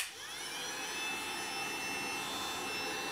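A Bavaria BHA 2000/1 heat gun runs on its first setting, giving a steady, airy fan whoosh with a faint high whine that spins up at the start and then holds constant, close and moderately quiet.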